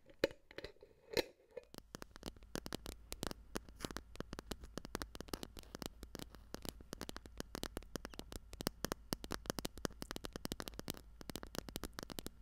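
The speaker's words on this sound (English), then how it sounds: "Here's a little listen of the phone tapping sound." Fingernails tapping rapidly on a phone screen in a close ASMR setting, a dense stream of crisp, sharp clicks with irregular rhythm, close and clear, after a brief rustle at the start.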